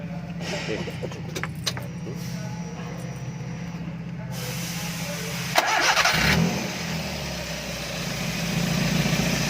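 A car engine cranked and started for a test after hoses, cable and socket are fitted, with rattling and clicks first, then the engine catching around 5.5 seconds and settling into a steady idle, fairly close.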